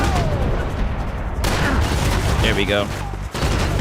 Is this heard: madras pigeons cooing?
no